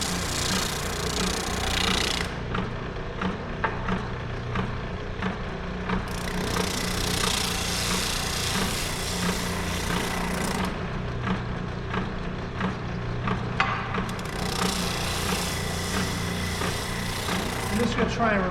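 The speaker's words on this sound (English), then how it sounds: "I'm going to turn on the machine. I'm going to wait for it to give the full RPM before I go ahead and start sanding it" A wood sanding machine spun up to full speed drones steadily with a rough, broadband whir while wood is worked against it, the noise swelling and easing in long cycles throughout.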